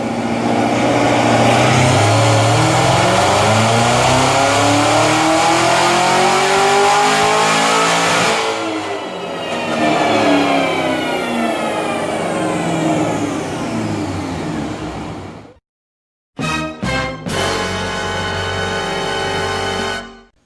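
A Cadillac CTS-V with a Magnuson 2650 supercharger revs hard through a full dyno pull on pump gas, a loud sustained engine roar climbing steadily in pitch, then a brief cut to silence followed by a few sharp revs and more high revving.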